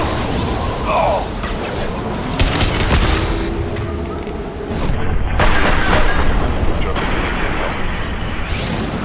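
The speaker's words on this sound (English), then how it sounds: "Watch out, flashbang!" A flashbang grenade goes off in the video game Mass Effect 2, a loud blast within continuous, dense combat noise that stays heavy and close throughout.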